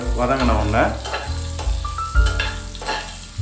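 Green chilli and carrot sautéing in a pan over a low flame for noi kanji, a broken rice porridge, giving a continuous close sizzle with occasional stirring knocks.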